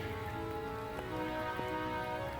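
Rain from a storm patters on a USMC two-man combat tent, a faint, steady wash with a couple of sharper drop ticks on the fabric.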